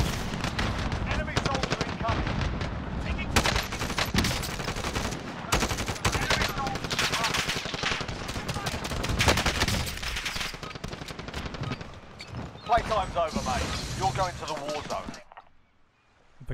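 Gunfire in Call of Duty Plunder mode, with dense rapid bursts of automatic fire and shots that continue almost without a break. Players talk over the shooting, and it ends in a sudden near-silence.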